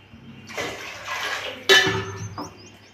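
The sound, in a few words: water poured into pan of fried tempering for upma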